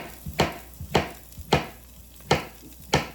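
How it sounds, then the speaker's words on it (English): Squash and carrot being chopped on a board, about six sharp knife strikes spaced roughly half a second apart, close and clear with faint softer taps between them. "Right, chop it up right now"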